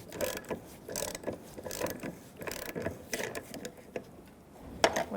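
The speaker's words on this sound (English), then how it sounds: "using a 10mm, tighten up this bolt for your filler neck" A 10mm ratchet tightens the fuel filler neck bolt on a 2000-2007 Ford Taurus, giving close, quiet bursts of rapid pawl clicking in short repeated strokes with small pauses between them.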